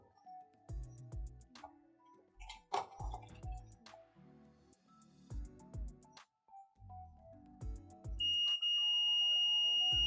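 A multimeter buzzer on its continuity range beeps in repeated short bursts while a Sony HT-IV300 home theatre board is probed, ending in one long steady tone. Faint clicks of probes are audible between beeps.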